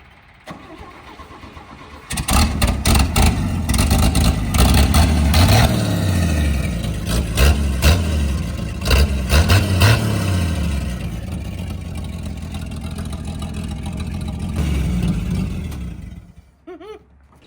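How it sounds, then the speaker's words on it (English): A gas truck engine runs with its muffler cut off, loud and raw, starting abruptly after a quiet lead-in, revving in surges and then settling to a rough idle before cutting out near the end. "Swear it's a gas motor. So for no good reason, we did cut the muffler off for your viewing pleasure and ours."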